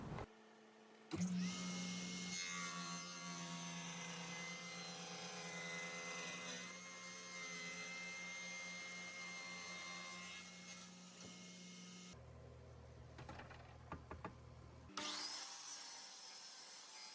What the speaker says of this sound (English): I bring the board over to the table saw as well as the miter saw just to trim off the little bit of epoxy